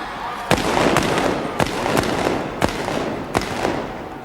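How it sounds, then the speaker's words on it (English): Field gun blank charges boom during a 1988 Fleet Air Arm field gun competition run, five sharp loud reports spaced under a second apart over a roaring crowd in a large arena. "Fire the gun."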